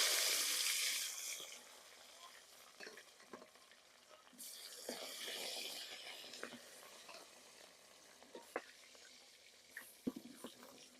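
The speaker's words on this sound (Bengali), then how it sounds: "তেল গরম হয়ে গেছে মাছ দিয়ে দিলাম" Pieces of rohu fish fry in hot oil in a pot, a faint, steady sizzle with an initial louder burst and scattered soft scrapes and pops throughout.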